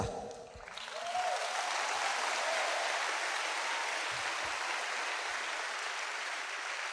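A church congregation applauding, a steady broad wash of many hands clapping that swells in after a brief quiet start and holds at moderate loudness, heard from a distance.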